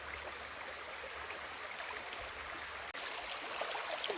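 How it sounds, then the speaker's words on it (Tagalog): River water flowing steadily nearby, a broad continuous rushing wash with no voices, briefly dipping midway before carrying on. "Nandito nga pala ako ngayon sa ilog."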